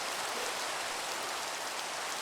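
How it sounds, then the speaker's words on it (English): Thunderstorm rain in the video game no_moon.jar, a dense, steady hiss of heavy rainfall, loud and unbroken with no other sounds. "Also, it's a thunderstorm."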